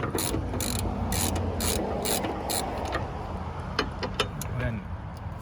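A ratchet loosens the battery terminal nuts on a 2020 GMC Sierra Denali or Chevy Silverado, with several quick bursts of ratchet clicking followed by scattered metallic taps and clinks, close up, over a low background hum and occasional talking.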